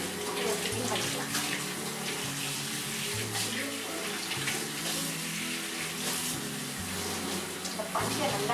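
Water runs steadily from a tap while greasy kitchen vessels are rinsed, with occasional clinks and sponge scrubbing sounds beneath the continuous splashing.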